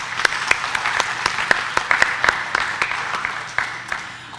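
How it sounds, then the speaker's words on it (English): An audience at an honors forum applauds student presenters with steady, dense clapping that holds for several seconds and thins slightly toward the end. "I think you really all deserve a round of applause,"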